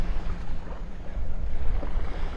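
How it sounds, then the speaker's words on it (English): Strong gusting wind at Delnor-Wiggins beach in North Naples, Florida, roars across the microphone as a loud, dense, low buffeting rush with no voices. "it's so windy right now, breezy out here"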